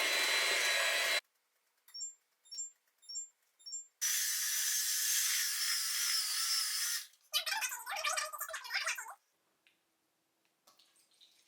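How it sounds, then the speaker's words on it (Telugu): An electric mixer running at low speed through dry ingredients and cocoa powder for a chocolate cake batter whirs in several separate bursts, with short pauses and softer intermittent runs between, near and without talk. "ఇప్పుడు ఈ డ్రై ఇంగ్రీడియంట్స్ అంతా నేను ఇందులో వేసి కొంచెం కొంచెం పౌడర్ వేసి లో స్పీడ్లో మిక్స్"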